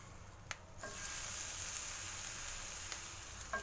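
Green chillies and poha fry in a pan with a steady, moderately quiet sizzle and occasional small clicks of a utensil. No one speaks over it.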